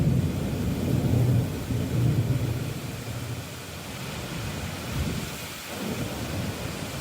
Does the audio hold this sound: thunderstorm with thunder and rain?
yes